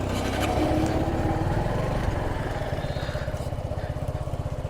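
A nearby engine idles and rumbles with a rhythmic throb, a motor running close by rather than traffic passing, on a roadside near a motor-fitted bicycle; no clear speech.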